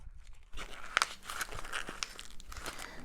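Paper crumpled by hand for ice dyeing with Procion MX dyes, a close, soft crinkling and crackling that starts after a brief pause and continues in irregular rustling bursts.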